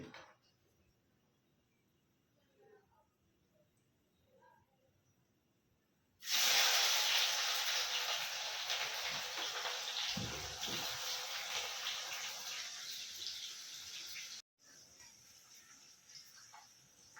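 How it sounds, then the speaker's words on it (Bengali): Onions drop into hot oil and set off a sudden loud hissing sizzle that holds steady for several seconds after a quiet stretch, then cuts briefly and continues softer. "চলো এখন পেঁয়াজ ছাড়ছি"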